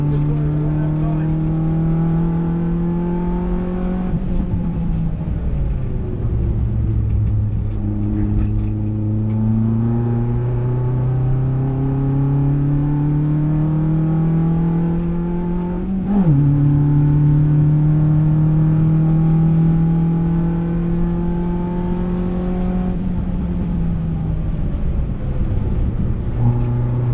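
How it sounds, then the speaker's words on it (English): A racing car accelerates hard around a track, its engine note climbing steadily through each gear with sharp drops at the shifts, loud and close from inside the car over the whole stretch. "I've just come in from my first drive in a racing car"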